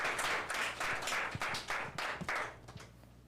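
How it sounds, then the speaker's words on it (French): Audience clapping at a French reading contest, a burst of applause with rhythmic pulses, moderately loud and without talk over it. "Bon, nous devons applaudir Juvaël juste avant que nous commençons le texte"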